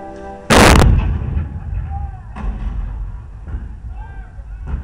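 Cannon artillery fire at Fort Sumter in 1861: a single loud, close blast opens, followed by rumbling battle ambience with fainter distant booms and a swelling dramatic score beneath.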